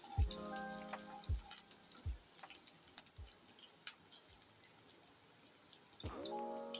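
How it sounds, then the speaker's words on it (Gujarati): Chopped garlic frying in oil in a pan, with a soft steady sizzle and scattered crackles, plus a few clunks of the pan or utensil, close and without talk. "હવે આપણે એમાં લસણ ચોપ કરેલું છે 2 મિનિટ માટે સાંતળી લેશું."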